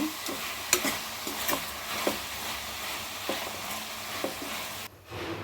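Vegetables with salt and turmeric fry in a pan for a vegetable pulao while a spoon stirs them, bringing soft sizzling and a few scraping taps, close, fairly quiet, ending abruptly.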